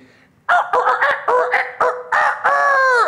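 A person imitates a chicken with loud, rapid clucking and squawking calls in short bursts, ending in a drawn-out crow-like cry, heard close and alone.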